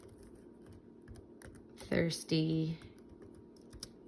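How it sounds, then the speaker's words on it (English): One-handed typing on a computer keyboard gives sparse, uneven clicks spread across the clip, with a brief spoken word partway through. "forgive me for typing slow. I'm typing with one hand here"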